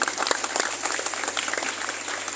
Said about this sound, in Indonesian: Tepuk tangan untuk haul malam hari ini.